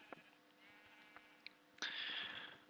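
A sheep in the game Minecraft SkyBlock gives one clear, nasal bleat near the end, after a few faint clicks and a quiet hum.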